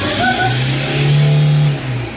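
A Toyota Fortuner engine revs up close, a loud steady hum climbing in pitch, holding high, then easing back down, with no talk over it.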